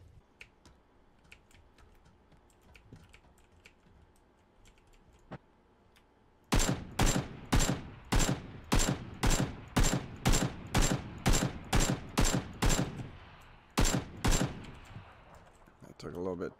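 Rapid bursts of gunfire from the shooter video game PUBG, about a dozen loud evenly spaced shots cracking out after a quieter stretch of low background game sound, with one short pause before the last few.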